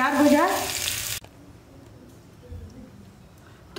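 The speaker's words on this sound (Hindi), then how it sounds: "कुंदरू अच्छे से फ्राई हो गया है" Kundru (ivy gourd) frying in a kadhai, a bright crackling sizzle for about a second that cuts off abruptly, followed by faint kitchen clatter and quiet background.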